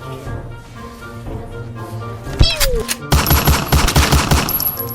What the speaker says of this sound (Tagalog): Ang lakas ng putok ni Granger.